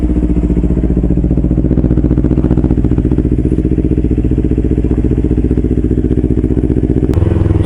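A Kawasaki Versys X 250 motorcycle with a Norifumi slip-on exhaust idles steadily and loudly up close, its low rhythmic engine pulse holding even throughout with a brief shift near the end.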